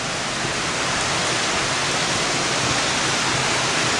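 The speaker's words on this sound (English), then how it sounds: "There's a lot of water coming out of the mountain right now too" Water pours out of the mountainside inside the Cascade Tunnel as a loud, continuous broadband rush, like a strong stream or small waterfall. It holds a steady level the whole time and is heard alone, with no voices.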